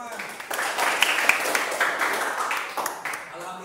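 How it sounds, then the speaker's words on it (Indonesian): Classroom applause, a burst of many hands clapping together at moderate loudness, with children's voices and chatter mixed in over the clapping. "tepuk tangan bagi kita semua"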